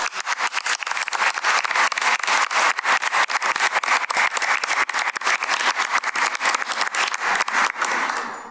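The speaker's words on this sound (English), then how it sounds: "And join me in applause." An audience at a school board meeting applauds steadily for about eight seconds, a dense, loud patter of many hands clapping that fades slightly at the end.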